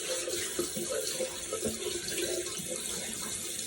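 Tap water runs into a sink for rinsing the face, a steady, fairly quiet splashing stream with small shifts as hands move through it.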